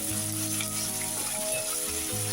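Ginger fries in a pot as the base for chicken feet soup, giving a close, continuous sizzle with a low hum and faint stirring underneath.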